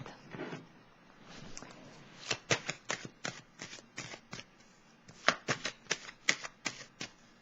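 Tarot cards are shuffled by hand in close, crisp bursts of riffling and snapping, with brief pauses between them.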